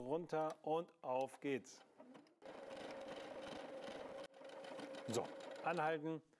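A W6 N 5000 Exklusive sewing machine stitches program 25 in one continuous run of about two seconds, with brief clicks around it. Someone talks before and after the stitching.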